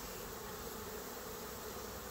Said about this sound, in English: a couple thousand bees flying around out there around that pine tree